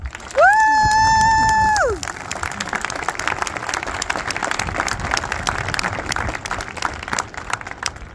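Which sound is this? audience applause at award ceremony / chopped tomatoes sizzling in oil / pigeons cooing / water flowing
audience applause at award ceremony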